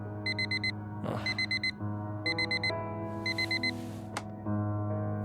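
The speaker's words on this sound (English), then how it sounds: "Every day that alarm goes off. I should change the tone on it." An alarm clock goes off in repeated quick bursts of electronic beeps, fairly quiet over a steady low hum, with a few brief clunks between the patterns.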